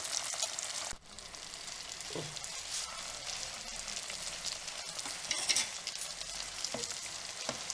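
A thick sweet mixture for Agra peda is stirred in a pan as it cooks down, with steady scraping strokes over a soft sizzle; the sound is close and continuous, with no talking.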